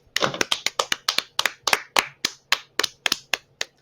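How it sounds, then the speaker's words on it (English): About fifteen sharp hand claps ring out alone at close range, a loose, uneven rhythm of crisp slaps with brief gaps, some doubled, marking a Hall of Fame induction. "We gotta clap it up for Lex."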